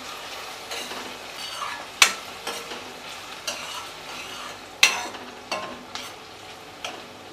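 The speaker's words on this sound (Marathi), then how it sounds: "आता हे चांगलं परतून घ्यायचं आपल्याला। कांदा आपल्याला मऊ करून घ्यायचा आहे।" Sliced onion with green chili and fresh coriander sautéing in a hot pan, a steady sizzle broken by repeated scrapes and knocks of a spoon stirring against the metal.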